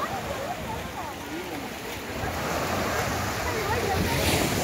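Sea waves roll in at high tide on Digha beach, a steady, broadband wash of surf that swells slightly louder toward the end, with wind noise mixed in.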